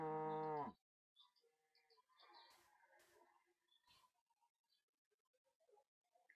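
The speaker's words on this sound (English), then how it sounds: "cows. Come here, cows, I need you now." A single loud, close cow moo from the Minecraft video game opens briefly, followed by faint scattered clicks and soft game noises in near silence.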